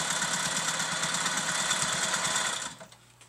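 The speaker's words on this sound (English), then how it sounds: "Now I'm going to stitch over again, quarter of an inch over, line up my ruler with that stitching." A sewing machine runs steadily during ruler-guided machine quilting, its rapid mechanical stitching chatter loud and continuous for over two seconds before it stops and only a faint hum remains.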